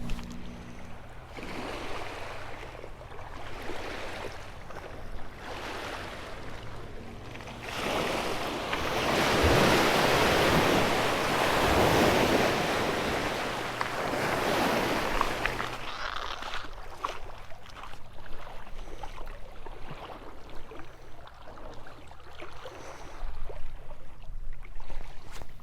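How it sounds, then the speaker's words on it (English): Waves and wind wash over a lake shore while a tow boat hauls another boat in the distance, a broad surging roar that swells in the middle and recedes, with gusty wind buffeting. "Someone's having a bad evening, a sea tow, towing them back home."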